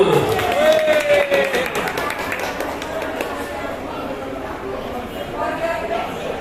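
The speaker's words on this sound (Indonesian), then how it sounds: "Tepuk tangan dulu, Ibu" Participants at a school teaching workshop applaud with steady, fairly close clapping that runs throughout, with a voice speaking over the start.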